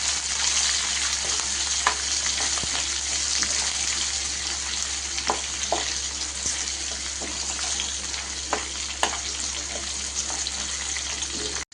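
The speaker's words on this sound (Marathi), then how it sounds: "तर बघा असा मस्तपैकी छान उभा चिरलेला पातळ कांदा घालून आपल्याला तो परतून घ्यायचा आहे।" Thinly sliced onion sautés in a pan with a steady, close frying hiss and occasional light clicks of stirring, with no voices.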